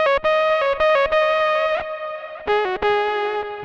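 Boss GP-10 guitar synth voiced like a vintage analog guitar synthesizer, filter cutoff darkened with a touch of resonance, plays sustained harmonic-rich notes with sharp attacks and buzzy distortion, a short phrase of held tones then a couple more, loud and alone.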